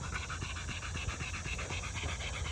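Rapid, steady panting from hunting dogs close by, quick rhythmic breaths continuing throughout with a low background rumble.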